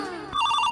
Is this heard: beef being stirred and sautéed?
no